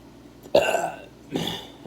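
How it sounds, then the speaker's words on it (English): Two close, throaty burps, the first louder and longer, the second shorter, with no speech. "I burped."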